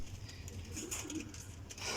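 Sialkoti teddy pigeons with black faces coo softly and faintly in a few low, rounded calls. No one speaks.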